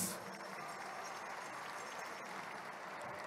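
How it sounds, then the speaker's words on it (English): A crowd applauds a Navy veteran at a wacipi powwow exhibition inside the Mall of America, steady faint clapping heard from a distance in a large indoor space. "How about a round of applause for Mary Lee Spotted Wolf?"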